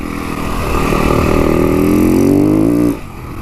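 Motorcycle fitted with Shinko 520 tires revving hard as it climbs a steep hill, a loud, close engine note rising steadily in pitch for about three seconds before the throttle is cut.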